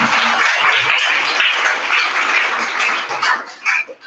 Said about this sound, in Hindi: तो एक बार सभी लोगों के लिए बेटा जोरदार तालियां बजानी आपको।